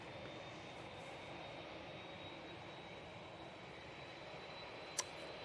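A Sun Express Boeing 737 MAX 8 on final approach into Manchester Airport gives off a faint, steady distant jet roar with a thin whine over it. It continues evenly with no voices.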